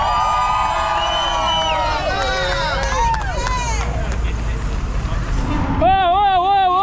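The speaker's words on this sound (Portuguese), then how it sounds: "Tem torcida aí, ó!" Spectators cheer and shout from walkways and bridges along the course of the 2024 Rio marathon 21 km race, a loud continuous crowd roar with whistles and calls, dense and close throughout.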